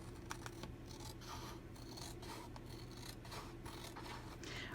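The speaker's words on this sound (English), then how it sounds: "I'm going to go back with my scissors and I'm going to trim the bottom" Scissors trim the bottom edge of a paper page in an altered book, giving repeated close rasping snips and rubbing strokes over a low steady hum, with no talking.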